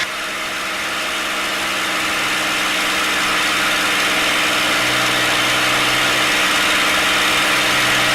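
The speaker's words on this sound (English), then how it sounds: "power's coming back. RPM's coming back." A TF-51 Mustang's piston aircraft engine drones steadily and loudly from inside the cockpit as power and RPM come back. The continuous roar swells slightly at the start and then holds even.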